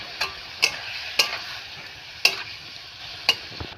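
A spoon scrapes through spice paste in a pan of fish curry in a light sizzle, five sharp scraping clicks at uneven intervals over the soft frying hiss.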